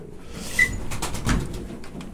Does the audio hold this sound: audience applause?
no